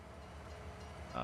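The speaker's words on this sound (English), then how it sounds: "Let's turn the train on." A locomotive in the Farming Simulator 22 game starts up on a Bavarian forest map, giving a steady low rumble that swells louder near the end, with no talking.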